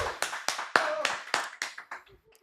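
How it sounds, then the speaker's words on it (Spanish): A short burst of applause from a small group, claps thinning out and fading over a couple of seconds, with faint voices underneath. "démosle un caluroso aplauso a nuestra amiga"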